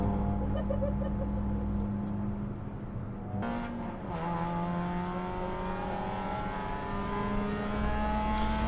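Race car engine at speed during a race, a sustained close drone that drops in pitch at a shift and then climbs again, steady and loud with no talking.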